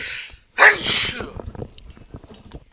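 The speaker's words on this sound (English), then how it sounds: "I'm gonna sneeze" A single loud, close sneeze bursts out after a sharp inhale, followed by faint breathing and shuffling.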